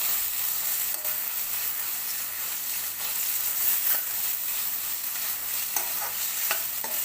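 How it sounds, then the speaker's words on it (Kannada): Tomatoes, onions and green chillies fry for Mangalore-style chicken sukka with a steady close sizzle, while a spoon stirs and scrapes the pan in occasional soft knocks. "ಟೊಮೆಟೊ ಹಾಕೊಂಡು ಚೆನ್ನಾಗಿ ಫ್ರೈ ಮಾಡಬೇಕು."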